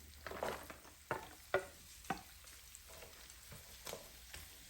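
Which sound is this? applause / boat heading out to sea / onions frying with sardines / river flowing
onions frying with sardines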